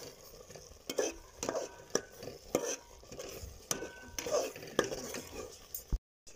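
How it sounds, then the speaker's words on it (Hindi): A spoon repeatedly stirs and scrapes coconut halwa with raisins in a pan, rhythmic close metallic clinks and scrapes over a faint sizzle, fairly quiet overall. "अब हम इसके अंदर किशमिश ऐड करेंगे। अच्छी तरीके से मिक्स कर लेंगे।"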